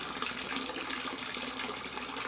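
Water pours steadily over a homemade spillway bowl waterfall angled to one side, a continuous close splashing trickle with no voices.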